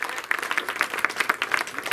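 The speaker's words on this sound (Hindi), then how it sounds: "मैं तमाम से गुजारिश करूंगा कि तालियों के साथ इनका इस्तकबाल करें।" Crowd at a political rally breaks into brisk applause, close and lively, with sharp individual claps standing out from the dense clatter for about two seconds.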